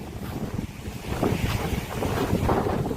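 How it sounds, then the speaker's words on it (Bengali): Strong wind gusting at the seashore, buffeting the microphone in steady roaring blasts that rise and fall, with surf faintly mixed in beneath; no one speaks. "প্রচন্ড বাতাস আপনারা দেখে বুঝতেই পারছেন"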